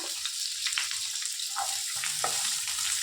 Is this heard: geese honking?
no